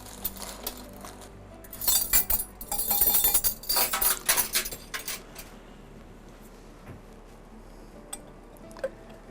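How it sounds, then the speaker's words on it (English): A whisk rattles quickly against a bowl while stirring a powdered sugar glaze for strawberry bread, a burst of metallic clinking for a few seconds that then fades to near silence. "Whisk that around"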